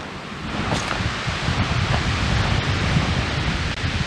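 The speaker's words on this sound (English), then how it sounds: "The wind is picking up" Wind roars steadily across an exposed mountain ridge on Mt Passaconaway, a loud, continuous rushing gust that buffets the microphone with no speech.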